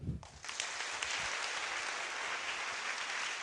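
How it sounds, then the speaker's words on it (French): A church congregation inside a temple bursts into applause after a brief voice, then claps densely and steadily with no pause until the end. "Acclamez-les."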